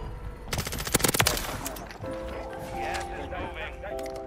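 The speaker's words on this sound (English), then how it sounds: "That's a new SMG." A close, loud burst of rapid gunfire from an SMG with a Pulemyot 762 setup on the Vondel map of a shooter game, trailing off into mixed game noise and tonal effects.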